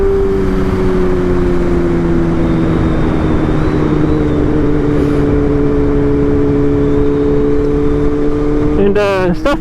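A BMW M1000R Competition motorcycle fitted with a titanium header and mid pipe idles steadily and loud, its droning exhaust tone holding nearly level before a brief rev near the end.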